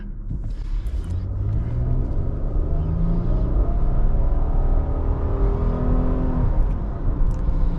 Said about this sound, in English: So as you can tell, this SUV has a hard time getting going just because of that CVT.